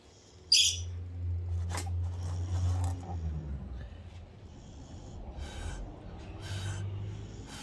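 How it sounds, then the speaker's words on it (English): Low, steady snoring from a person sitting close by outdoors, drawn-out rumbling breaths with a sharp snort near the start, otherwise alone without talk. "I can't believe you're sitting right there snoring."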